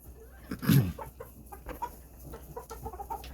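Red jungle fowl of the India red variety, a small pheasant-family bird, give a short loud call followed by soft scattered clucks close by.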